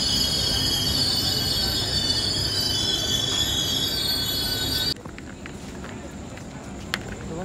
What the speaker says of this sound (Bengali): ট্রেন এখন ঢুকছে আন্ডাল জংশন